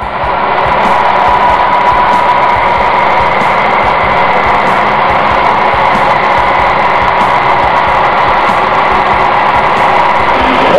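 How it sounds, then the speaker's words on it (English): A car engine idles in neutral, a loud, steady, continuous mechanical hum and vibration with no change in pitch, heard up close throughout. "Go ahead and check it now with the engine running and in neutral."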